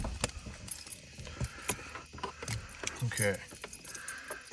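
Car keys jangle in bright metallic bursts, near and intermittent, while a person talks over a low engine-like background in a workshop with a 7.3 Powerstroke diesel truck.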